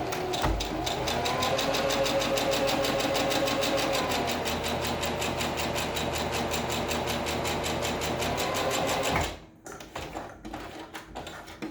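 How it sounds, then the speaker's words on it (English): A sewing machine straight-stitches across the ends of a homemade fabric mask, a loud, steady, close motor whir with rapid needle clatter for about nine seconds before it stops, leaving faint handling noises. "I'm just going to straight stitch across the ends to close them up"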